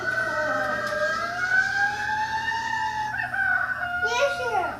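Electronic rooster crow from a toy, a drawn-out, wavering, synthetic cock-a-doodle-doo heard close and clear for several seconds, ending in a brief higher squawk.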